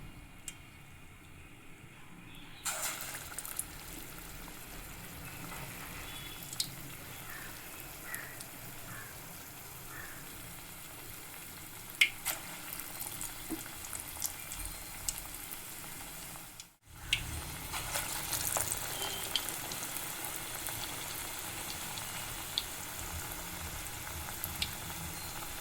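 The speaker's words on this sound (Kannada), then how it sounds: "ಈ ರೀತಿ ಮಾಮೂಲಿ ಹೇಗೆ ಮಸಾಲ ವಡೆ ತಟ್ತೀವೋ ಅದೇ ರೀತಿ ತಟ್ಕೊಂಡು ಎಣ್ಣೆಗೆ ಬಿಡಬೇಕು" Masala vada frying in hot oil gives a steady, low crackling sizzle that runs throughout, with occasional small pops and kitchen clicks and a brief dip partway through.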